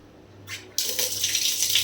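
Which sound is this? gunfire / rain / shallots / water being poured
water being poured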